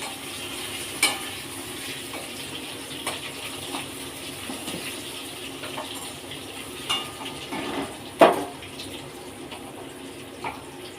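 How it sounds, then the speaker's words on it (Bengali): Potato pieces frying with whole cumin seeds in a pan, a quiet continuous sizzle with a few utensil clinks and stirring knocks, no talking. "আলুটা আমি বেশি লাল করে ভাজবো না।"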